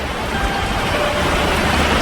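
Heavy rain falls steadily at night, a dense, loud, unbroken hiss and roar of water that fills the whole space with no other sounds.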